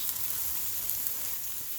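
Shrimp and mung bean sprouts hissing in a hot pan for pad thai, a brief continuous close sizzle with no speech.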